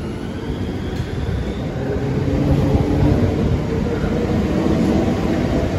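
Southeastern Class 395 unit 395014 leaving Platform 1 at Deal station, a continuous low rumble that swells slightly midway, fairly close and steady with no talking.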